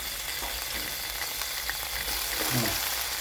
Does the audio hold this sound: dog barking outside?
no